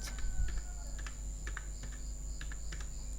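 Someone types a command into PowerShell on a computer keyboard: a run of light, quick key clicks spread across a few seconds, fairly quiet over a steady low background hum.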